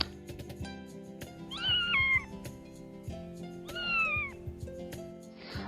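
Two soft, short kitten meows separated by a pause, faint and high-pitched against quiet background clatter.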